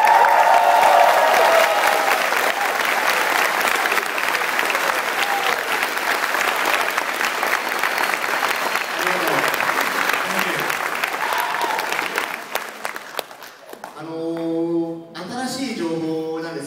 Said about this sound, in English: let's greet these guys with the applause they deserve.